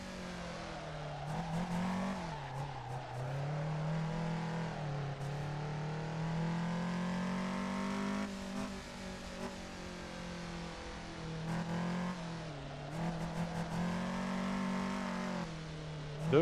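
A car engine revving in a racing video game, rising and falling in pitch in long sweeps, held steady at moderate loudness, with brief sharp bursts scattered through.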